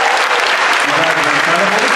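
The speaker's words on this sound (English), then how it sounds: "One more round of applause for our seniors." Dense, steady applause from an audience honoring graduating seniors at a high school senior class night, a continuous wash of many hands clapping at full loudness, with faint voices mixed in.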